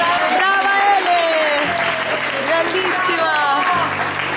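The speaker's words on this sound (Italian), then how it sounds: "un applauso per tutto il sito di Anime Click" Audience applause at a Lucca Comics award event, clapping running throughout underneath loud talking and cheering voices.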